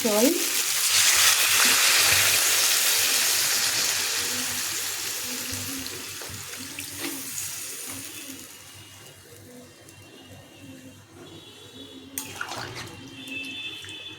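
Water poured into a hot pan of spiced potatoes and pointed gourd for a prawn dalna sets off a loud, broad hiss that slowly fades over several seconds into quieter bubbling, with a brief clatter near the end.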